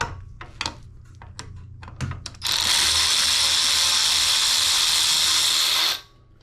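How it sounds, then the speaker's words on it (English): A power ratchet spins out bolts during a tubeless tire install and brake bleed on an Inmotion RS electric scooter, starting with several short clicking bursts, then a loud, steady whirring buzz for about three and a half seconds before it stops. "This actually might work better with the power ratchet."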